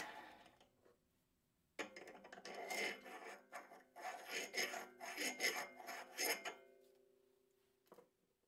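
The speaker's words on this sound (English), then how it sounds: "Also with sandpaper on a wood stick." Sandpaper wrapped on a wooden stick rasps against a damaged axle from a Sachs Torpedo bicycle hub, a run of close, scratchy back-and-forth strokes at steady rhythm, with no talking.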